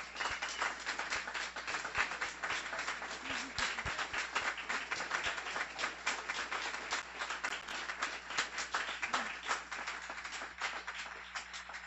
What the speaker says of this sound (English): please join us in giving them a round of applause for all that they do for us